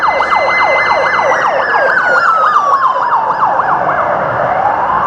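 A wailing fire engine siren sweeps rapidly up and down, loud and steady, with a second long tone gliding downward as it passes close by in Melbourne city traffic.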